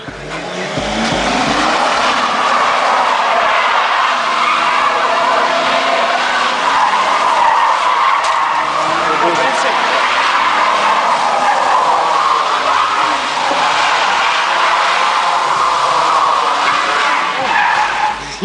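Mercedes E 320 TDI tires squealing in a long, loud skid while the car is driven hard, a sustained screech over engine noise lasting many seconds, recorded close by.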